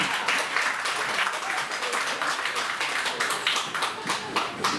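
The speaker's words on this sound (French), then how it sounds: "qu'on applaudisse aussi" An audience at an intercultural festival at a château in Gouvy gives sustained, fairly distant applause, a dense, steady patter of many hands clapping at moderate loudness throughout.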